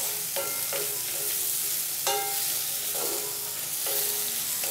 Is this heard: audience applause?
no